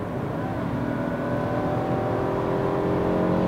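A 2018 Toyota RAV4 Adventure's engine revs hard toward 6,500 RPM, a smooth, steady, moderately loud drone heard from the cabin with no one talking.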